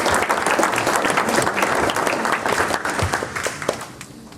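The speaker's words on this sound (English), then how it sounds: "Can we please give them a round of applause?" Audience applause at a breakfast talk event on data centers, a dense, sustained wash of many hands clapping that holds steady and fades slightly toward the end.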